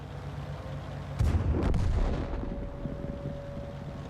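A tank gun fires in the World of Tanks game, one sudden heavy boom followed by a rolling, decaying rumble over a steady engine-like hum.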